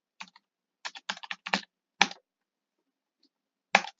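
Short bursts of close, crisp computer keyboard typing, with a quick run of keystrokes followed by two separate single taps, as a command is entered in a text adventure game in an otherwise quiet room.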